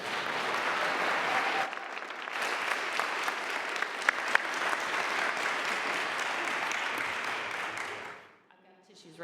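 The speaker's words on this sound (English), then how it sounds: "Please give Jason and Jim a round of applause." An audience at a second-chances celebration event claps steadily for about eight seconds, a full dense round of applause that swells slightly and then fades out abruptly.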